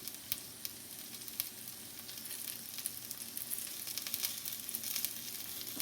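Lacy cornbread frying in hot oil in a pan on medium-high heat in a home kitchen: a steady, close sizzle and crackle with small pops scattered throughout, no voices.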